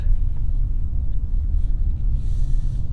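A 2022 Infiniti QX55 with a turbocharged 2-liter inline-4 pulling away on the road, heard from inside as a steady low engine and road rumble with a faint higher hiss.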